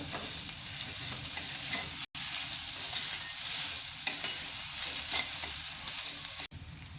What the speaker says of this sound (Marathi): हे आपण छान एक मिनिट व्यवस्थित परतून घेणार आहोत